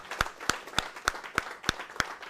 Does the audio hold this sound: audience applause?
yes